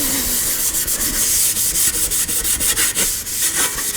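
Steady, rhythmic scrubbing of a car body panel on an Austin-Healey rear wing with a fine Scotch-Brite pad, with close, continuous abrasive rubbing strokes throughout.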